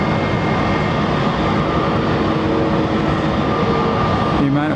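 Aer Lingus airliner at London Heathrow, a loud continuous engine roar with steady droning tones, close and unbroken, under a speaking voice.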